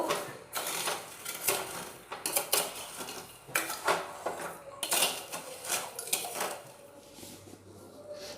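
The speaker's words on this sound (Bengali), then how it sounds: "দিয়ে চিনিটা খুব ভালোভাবে একবার নাড়াচাড়া করে নেব" Sugar being stirred in a metal pan while making langcha, with repeated clinks and scrapes of a spoon against the pan in irregular bursts, close and fairly loud, no voices.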